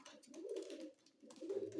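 A pigeon coos softly nearby, two low throaty phrases with a brief pause between them, quiet and alone.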